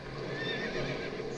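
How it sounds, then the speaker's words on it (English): A horse whinnies in a video game, a drawn-out shrill neigh heard steadily over a busy game soundscape, with faint hoof clip-clop underneath. "You heard a horse."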